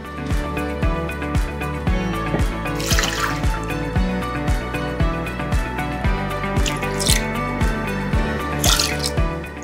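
Water drips and trickles into a Thermomix bowl over Gula Melaka palm sugar while syrup is being prepared, with steady, close, repeated droplet plinks and splashes that continue at a regular rhythm.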